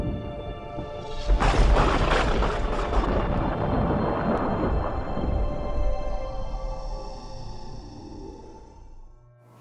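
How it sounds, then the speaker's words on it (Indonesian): A lightning strike hits a tree on a mountain, a sudden loud crack that breaks into a long rumbling roll of thunder, fading slowly over several seconds until it cuts off. "petir menyambar pohon yang ada tepat di samping Putra"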